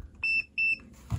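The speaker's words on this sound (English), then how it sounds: "So we confirm that when these two touch, we get a beep" A continuity tester beeps when two switch wires are touched together, giving two short, clear electronic tones in quick succession at close range, with a quiet room otherwise.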